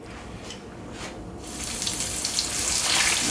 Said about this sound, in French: On va commencer à cuire donc nos beignets. On va y aller tout doucement parce que l'huile est très très chaude.